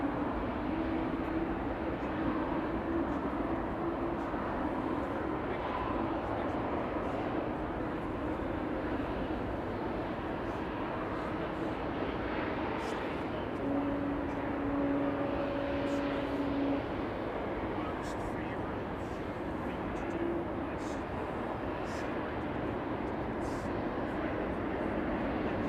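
KLM Airbus A321neo bound for Zurich departing Amsterdam Schiphol Airport, a steady broadband jet engine roar that stays loud and continuous throughout with a few faint tonal whines.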